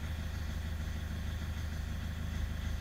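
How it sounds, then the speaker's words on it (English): Diesel engine idling at about 131,000 km with injector rattle from a prematurely failing injector, a steady low close rumble with an even, fine ticking texture running throughout, no talk. "Oh, I hear that rattle."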